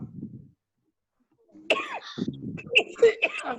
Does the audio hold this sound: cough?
yes